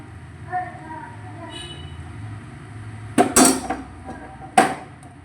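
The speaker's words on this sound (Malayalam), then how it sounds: "മീൻ പൊരിക്കാൻ മീനിൻ്റെ ചട്ടി എടുക്കാൻ." A metal pan for frying fish is pulled out in a home kitchen, giving a short burst of loud clanks and clatter, then one more sharp knock, over a low steady background hum.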